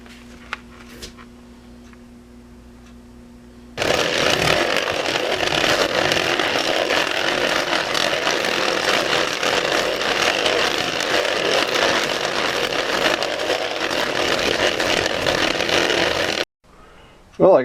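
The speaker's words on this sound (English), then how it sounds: "I got the first part for the seat buffed out" Power buffer polishing a part for a motorcycle seat during a bike restoration, a loud continuous grinding whine running about thirteen seconds without a break, close to the microphone, then cutting off abruptly.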